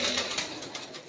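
A pigeon gives a short, close, breathy coo over a noisy background, lasting only about a second.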